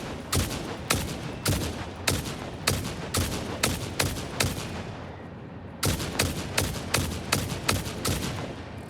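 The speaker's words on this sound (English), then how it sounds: "Let's try out our turbo rifle ammo." Rapid bursts of turbo rifle ammo gunfire in the video game Satisfactory, loud and close, firing in two long runs of sharp evenly spaced shots separated by a brief gap, with no talking.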